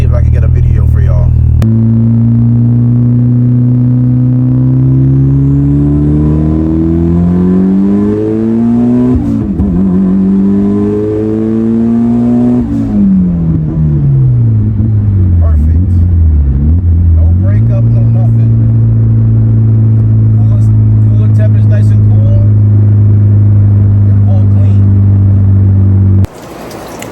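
A tuned Mitsubishi Evo running on pump gas at 26 pounds of boost revs loud and close, its engine note climbing through sweeping accelerations, dipping, then holding a strong steady drone before cutting off abruptly.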